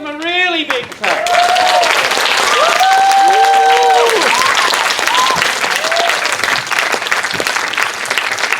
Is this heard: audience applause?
yes